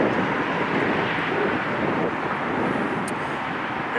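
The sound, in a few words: airplane departing at Long Beach airport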